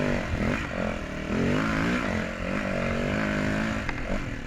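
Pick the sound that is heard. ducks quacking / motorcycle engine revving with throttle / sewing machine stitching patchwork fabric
motorcycle engine revving with throttle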